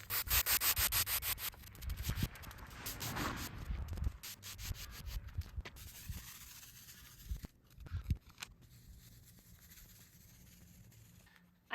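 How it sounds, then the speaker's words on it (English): Sweeping and raking wildflower seeds into garden soil: rhythmic scratchy rubbing strokes, dense and quick at first, then slower scraping passes that fade toward quiet. "let's do a quick sweep and then let's rake in our seeds"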